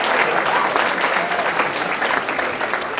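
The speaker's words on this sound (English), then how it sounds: "give yourselves a round of applause for being here tonight" Sustained applause from an audience at a youth achievement awards ceremony, dense and steady throughout at a fairly loud level, with no talk above it.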